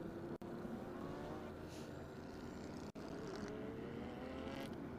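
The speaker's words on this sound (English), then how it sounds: "It's a 2013 Ferrari 458 Challenge Series machine." A 2013 Ferrari 458 Challenge race car runs around a track, its engine giving a continuous high-pitched roar with rising revs, broken by two sudden instant cutouts.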